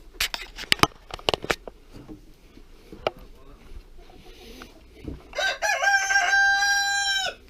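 Chickens on a poultry farm cluck and peck in a series of sharp close sounds, then a rooster crows loudly and at length near the end.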